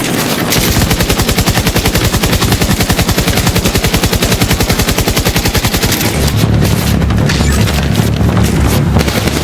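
Sustained rapid automatic gunfire from enemies in The Division 2 video game, loud and relentless, shifting at the end into heavier bursts and booms of a chaotic firefight.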